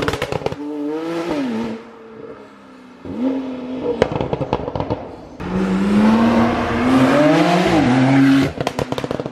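Porsche 911 Turbo S exhaust, loud rising revs broken by sharp crackling pops and bangs in bursts between throttle blips, close and aggressive.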